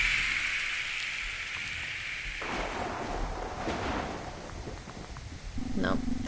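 Rain falls at night in a video game as a soft, steady hiss that continues throughout, with a brief knock and a tone near the end.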